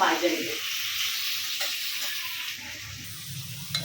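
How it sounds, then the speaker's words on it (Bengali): Potato pieces fry in oil on a wood-fired stove, a close hissing sizzle with occasional stirring scrapes and knocks, steady throughout and slightly fading toward the end. "তো বন্ধুরা এই যে আমার আলুগুলো কিন্তু লাল লাল করে ভাজা হয়ে গেছে"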